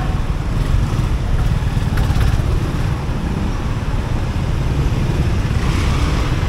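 Steady, loud broadband road roar from a motorcycle ride through heavy traffic near Gawal, engine and surrounding vehicles blending into a constant rumble with no pauses and no talk.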